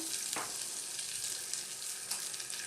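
Flour cooking in melted butter for a roux, a close, continuous frying sizzle with a few brief scraping stirs, no voices.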